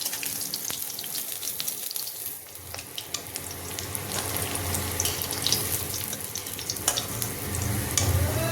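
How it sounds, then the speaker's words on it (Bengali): Fish fries in hot oil in a home kitchen, giving a faint, steady crackling sizzle with scattered pops and some stirring and clinking noises throughout. "বাকি মাছগুলো ভেজে নেব।"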